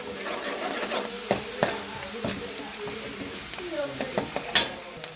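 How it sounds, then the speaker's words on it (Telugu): Onions and fenugreek leaves fry in a pan with a soft, steady sizzle, broken by several sharp scrapes and clinks of a spoon stirring against the metal, fairly quiet and close. "కొన్ని మెంతాకులు, ఆనియన్స్ ఫ్రై చేసుకోవాలి"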